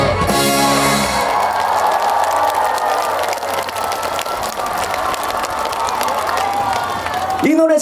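A concert audience at the Busan Sasang riverside festival claps and cheers loudly and steadily after a brief burst of music, the dense crowd noise filling the whole stretch.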